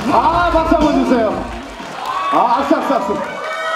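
A university audience at a Mamamoo visit to Sejong University shrieks and cheers in two overlapping surges of excited voices, with little clear clapping.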